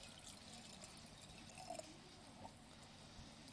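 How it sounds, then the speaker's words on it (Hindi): Water poured into a jug already holding chia seeds runs as a soft, steady stream, quiet and close, with a few small splashes partway through. "अब इसमें पानी डालेंगे।"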